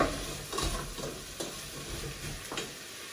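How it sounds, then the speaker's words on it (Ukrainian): Pumpkin pieces are stirred in a hot pot for pumpkin soup, with a steady soft sizzle and a few scraping strokes of the spoon, close and fairly quiet. "коли ми заклали весь гарбуз, я даю більшу температуру, перемішуємо добре"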